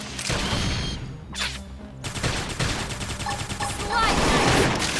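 Rapid video-game gunfire from Xenoblade Chronicles X crackles in dense, sustained bursts with a brief lull, then builds again loudly, with combat effects layered on top.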